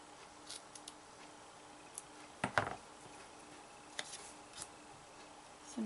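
Scissors cut dimensional foam adhesives in half in a quiet crafting setting. A few faint clicks come first, then a sharp cluster of close snips near the middle, and soft ticks follow.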